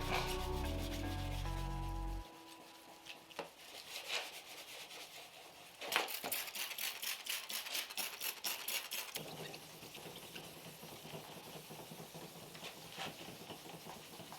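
Hand sanding of a faded plastic headlight lens with 3000 grit sandpaper, a soft steady rubbing that runs throughout, with a denser scratchy burst partway through and no talking.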